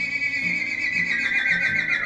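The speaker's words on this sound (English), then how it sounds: "It's got a funny little whinny." A thin, rescued auction horse with goopy eyes and nose gives a funny, wavering whinny, a steady high cry with a few low snorting pulses underneath, heard up close.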